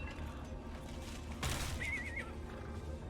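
A horse in the video game Diablo IV gives a high, wavering whinny over a steady run of galloping hoofbeats, with a sharp crash-like burst just before the neigh, all at low, even game-audio volume.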